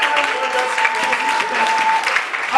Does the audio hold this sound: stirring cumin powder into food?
no